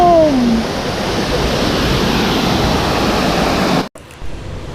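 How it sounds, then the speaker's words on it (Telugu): Idukki waterfall on the road to Munnar in Kerala, a loud, dense, unbroken roar of falling water close by, with a brief whistle at the start and a sudden cut near the end. "ఇది వచ్చేసి ఇదుక్కి వాటర్ ఫాల్స్ అంటారంట"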